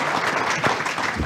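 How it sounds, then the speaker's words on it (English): A short burst of audience applause at a Chamber of Commerce candidates forum for State Senate 34th District hopefuls, with dense clapping at an even level across the moment. "Let's have a round of applause for our State Senate 34th District candidates."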